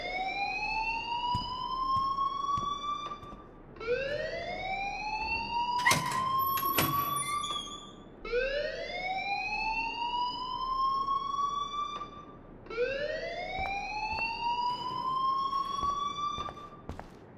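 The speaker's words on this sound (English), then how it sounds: "please turn off that alarm" School fire alarm in the game Life is Strange wails in four long rising sweeps, each climbing then cutting off before repeating, loud and steady with no talking over it.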